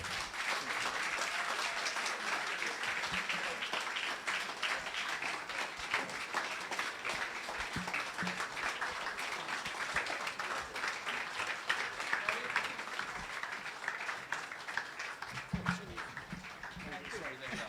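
An audience at the opening ceremony of a prime ministers' conference claps steadily for a long stretch, dense sustained applause that stays fairly even throughout, with some voices under it.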